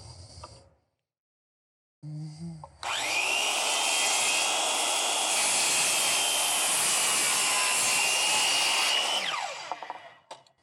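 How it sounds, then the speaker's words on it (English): A circular saw makes a 22 degree angled bevel cut through wood, the motor spinning up into a loud, sustained, steady whine for several seconds before winding down. "And I'm going to give you a little angle cut here."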